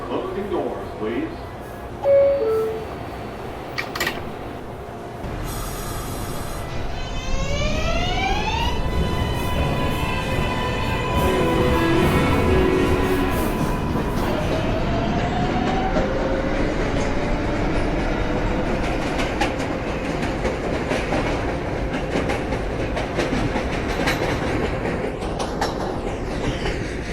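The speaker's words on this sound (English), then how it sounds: "This is a Manhattan-bound 4 train." A New York subway 4 train, Manhattan-bound, running on the tracks: a loud, continuous rumble with rising electric motor whine and clattering wheels, alongside automated station announcements.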